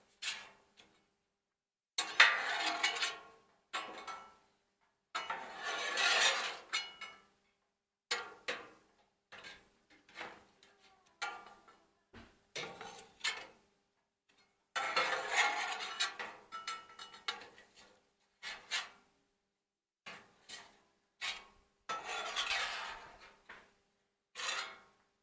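A spatula scrapes across a freshly oiled flat-top griddle in quiet, intermittent bursts of rasping strokes separated by silent pauses. The scraping is fairly faint and close, and no one speaks.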